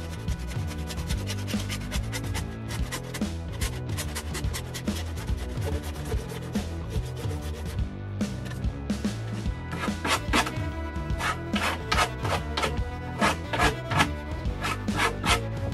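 A pipe is cut by hand to 1.10 m for a ferric chloride tube. Close, rhythmic rasping strokes repeat back and forth and grow sharper and more clipped toward the end.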